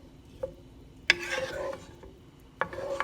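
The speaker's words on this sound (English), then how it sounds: "So I'm going to go ahead and mix that up and start seasoning everything." A spoon stirs tomato sauce in a pot, with a few sharp knocks against the pot rim and wet scraping swirls between them, close and fairly quiet with no talking.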